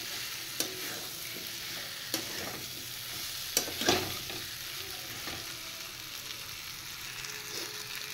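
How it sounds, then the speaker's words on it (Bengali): Elephant foot yam and taro chunks being stir-fried with spices for a prawn curry, a soft steady sizzle with occasional scraping clicks of the spatula against the pan, quiet and without talk. "এবার মশলার সাথে আর একটু কষিয়ে নিয়ে"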